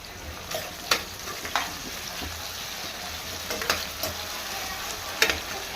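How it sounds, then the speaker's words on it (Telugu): Onions fry in oil with a little salt for spicy palak chicken fry, a constant hissing sizzle broken by repeated clinks and scrapes of a spoon stirring the pan. There is no talking. "ఆనియన్స్ ఆయిల్లో మంచిగా మగ్గనిద్దాం"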